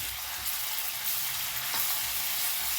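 Ginger garlic paste fries with onions in hot oil, giving a steady, close, loud sizzle that holds evenly throughout with no talking.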